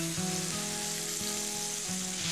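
Butter sizzling with olive oil in a very hot frying pan, a steady close fizz with a faint background hum and no voices.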